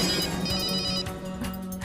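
A telephone rings steadily for an incoming call during a Turkish-dubbed Indian TV drama, with a sustained electronic ringing tone that is loud and continuous, heard alone without speech.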